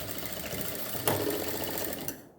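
A sewing machine stitches steadily along a folded saree edge, its fast mechanical whirr close and continuous with one sharp click partway, then cutting off at the end.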